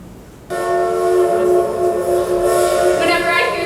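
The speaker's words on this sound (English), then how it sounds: "Whenever I hear that train coming into town, I always get a feeling of excitement in here." A train horn blares suddenly and holds a loud, steady chord over the rumble of the approaching train.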